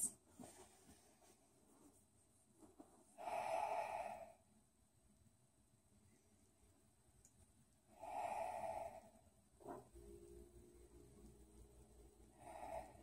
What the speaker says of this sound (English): 3 more deep Ujjayi breaths.